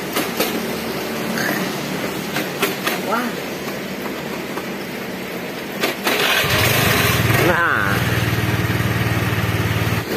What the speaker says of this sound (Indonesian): Starter lagi sampai hidup.